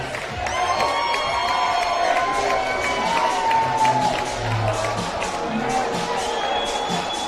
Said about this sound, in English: huge round of applause for Rob Kolper